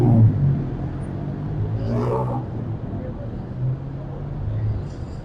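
Street traffic rumbles along a Bangkok boulevard as a steady low engine drone, with one vehicle passing a little louder midway while a voice is faintly heard.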